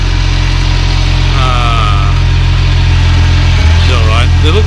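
Isuzu NPS truck engine idling with a suspected faulty injector, a loud, steady low rumble with a brief stumble near the end, while people talk over it.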